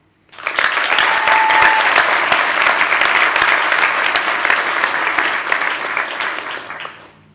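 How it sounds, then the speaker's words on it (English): Audience applause for a university team at a leadership forum, a dense steady clapping that rises quickly, holds strongly for about six seconds and then fades, with no talking over it. "then you clap for them"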